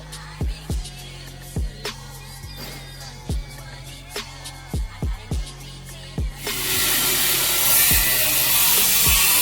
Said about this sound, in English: I'm gonna slowly use this razor to cut the old gasket.